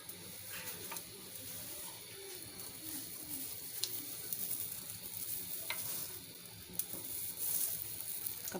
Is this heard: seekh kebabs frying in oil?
yes